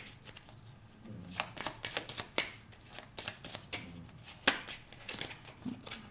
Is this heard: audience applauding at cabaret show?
no